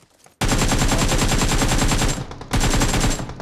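Rapid automatic gunfire in a battle royale video game, aimed at a car, comes as a loud continuous burst of shots, breaks off briefly, then resumes for another burst.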